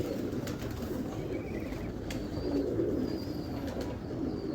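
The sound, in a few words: pigeons cooing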